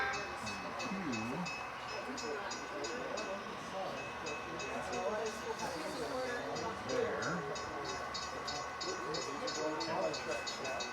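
An HO scale model train rolls through a BN rail yard layout, with a steady mechanical whir, faint rhythmic clicking and horn-like tones sounding moderately close under a continuous hum.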